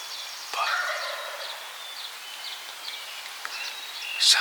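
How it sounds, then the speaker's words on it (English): A wild turkey gobbles in a rapid rattling burst at a moderate distance, followed by fainter calls and chirps against a quiet outdoor background in Vermont. "That bird gobbling behind us."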